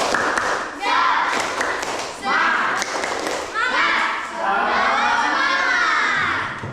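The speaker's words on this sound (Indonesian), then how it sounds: "Nah, yuk, tepuk semangat sekali lagi. Tepuk semangat" A group of children claps in quick rhythmic bursts with shouting voices mixed in, loud and close, pausing briefly between rounds, in an Indonesian classroom.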